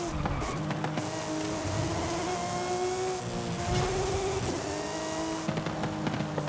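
A Porsche 911 GT3 engine in the racing game Forza Horizon 5 revs loudly and continuously, its pitch sweeping up and down through gear changes in a raspy race-car tone.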